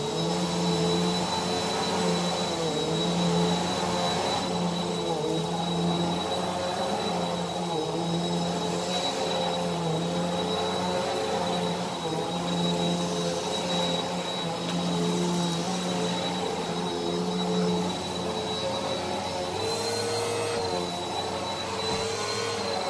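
A Bissell PowerForce Helix Turbo Rewind Pet (2692) vacuum cleaner runs on medium setting over low carpet, a loud, constant motor whine with a steady high tone and slight fluctuations as it moves.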